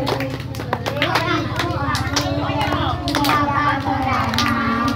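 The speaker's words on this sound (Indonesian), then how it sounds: "Tepuk tangan semuanya." Children and an audience clap along at a kids' party with a clown, a steady patter of hands over music and children's voices.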